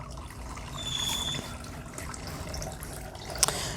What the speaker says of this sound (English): So I'm going to go ahead and rinse this.